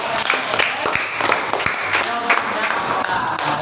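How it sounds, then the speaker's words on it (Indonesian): A classroom group clapping: dense, continuous applause of many hands, fairly close, with a voice speaking faintly beneath it. "berikan tepuk tangan untuk"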